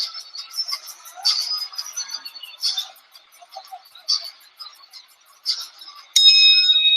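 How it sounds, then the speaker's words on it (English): A boxing ring bell rings clearly once at the end of round two, bright and sustained, after several seconds of high chirpy clicks and crowd noise. "The bell in round 2"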